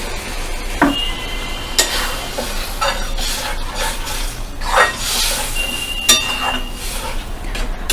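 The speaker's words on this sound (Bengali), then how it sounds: "এবার আমি এতে জল অ্যাড করব। একটু জল দিয়ে দিলাম।" Curry sizzling in a hot pan as water is poured in, with steady frying hiss and clinks of a spoon stirring against the metal, close and continuous.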